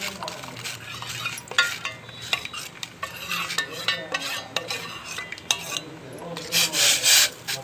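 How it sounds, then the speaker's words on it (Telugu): A spoon stirs Knorr hot and sour soup in a pot over a medium flame, giving repeated scraping and clinking strokes with brief louder rasps, close and alone without talk. "ఇప్పుడు ఇలా మిక్స్ చేసుకుంటూ ఒక 5 minutes వరకు ఇలా కలుపుతూ మీడియం ఫ్లేమ్లో పెట్టుకుంటే సూప్ రెడీ అయిపోతుంది"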